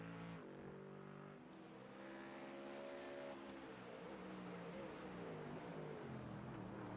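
A GT3 race car comes off turn 13 at the Navarra circuit, its engine a steady loud drone with rising and falling pitch as it accelerates, fairly close and heard alone.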